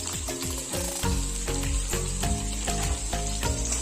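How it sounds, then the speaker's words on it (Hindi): Potatoes frying in a pan for a Chhattisgarh-style radish and drumstick vegetable dish, steady close sizzling crackle with rapid repeated pops and bursts of spattering oil throughout. "देखिए आलू हमारा तला गया है।"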